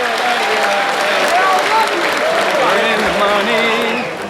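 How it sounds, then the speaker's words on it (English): Audience applause fills a poker tournament room at a World Series of Poker Main Event, a dense, steady wash of clapping from a large crowd that holds loud throughout and tapers slightly at the end, with faint voices mixed underneath. "I want to hear a warm round of applause for our bubble boy, John Segan"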